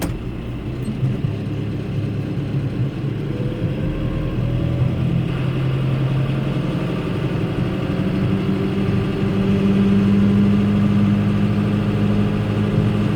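Machine pushing snow with a Virnig V60 steel-edge snow pusher with back drag, set in a higher gear: a loud, steady engine drone runs throughout, holding its pitch with only slight rises, and no one speaks.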